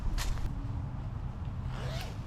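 A zipper is pulled closed outdoors in a few quick, soft rasping strokes, close by, over a low background rumble.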